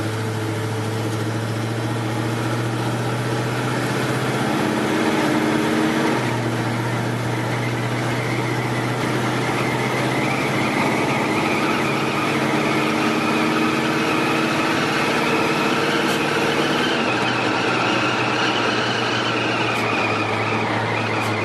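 A 1972 Chevrolet C10 Cheyenne pickup truck drives a back road, its engine droning steadily and shifting pitch as it moves through the gears, heard continuously from inside with road noise and no talk.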